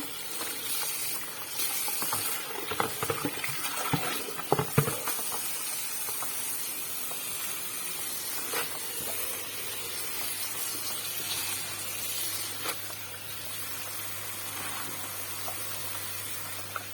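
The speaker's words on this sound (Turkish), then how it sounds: "Bu dibinde kum, çamur kalmayana kadar yıkayalım arkadaşlar ıspanağımızı." Running water hisses and splashes steadily at a low level, with occasional louder swishes and clatters as spinach is rinsed.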